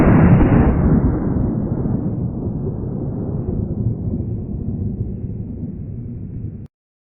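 A 12 gauge shotgun fires an Estate 00 buckshot shell outdoors at a target 30 feet away, one loud blast at the start followed by a long rumbling decay that fades over several seconds.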